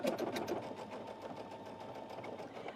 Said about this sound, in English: So are you thinking of gathering with this as a decorative stitch on a gather, Evelyn?